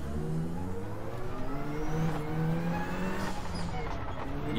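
A Toyota Celica rally car engine in Gran Turismo holds a loud, sustained, buzzing rev, its pitch rising and falling steadily as the car drives, with no break throughout.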